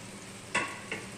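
Mango pieces dropped into eggplant frying in oil for a mango curry, giving two brief sizzling bursts over a quiet low background, the first louder than the second.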